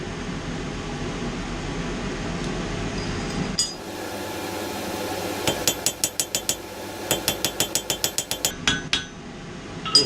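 A hammer rings on hot metal at an anvil while a fish-shaped key rack is forged, with quick bright strikes coming in two rhythmic bursts of about a dozen blows each over a low background hum.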